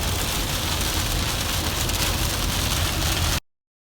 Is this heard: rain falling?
yes